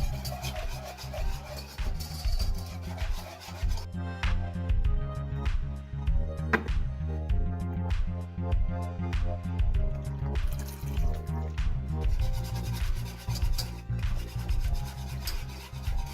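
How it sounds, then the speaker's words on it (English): A whisk scrapes and swishes through milk and roux in a pan, with rhythmic rubbing strokes, light clinks against the metal and wet sloshing, up close and steady. "A whisk is a good tool for incorporating liquid into the roux."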